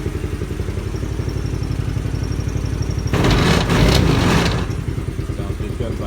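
A go-kart engine fires up and runs loud and close, its steady idle throbbing before a brief revving surge in the middle, then settling back to a rough, even idle.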